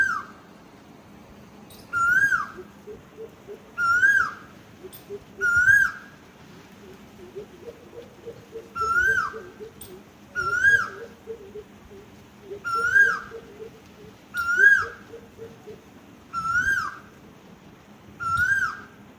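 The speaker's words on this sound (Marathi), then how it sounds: "तुम्ही सुद्धा आता ऐकलंच की किती सुंदर कोकिळाचा आवाज येत होता." An Asian koel calls repeatedly outdoors, its rising whistled notes clear and fairly close, returning in steady bursts every couple of seconds over a low background hum.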